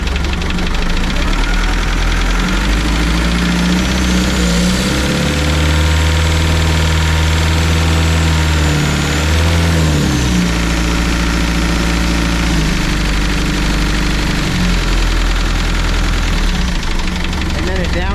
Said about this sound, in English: You can hear the motor change noise.